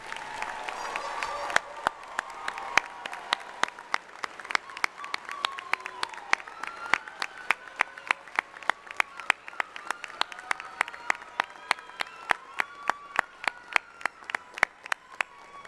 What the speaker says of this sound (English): will the members of the audience please join me in one final round of applause to recognize our graduates?